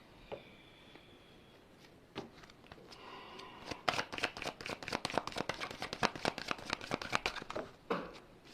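Tarot cards being shuffled by hand, starting with a few scattered taps and then a long run of rapid riffling flicks, close and soft with no speech.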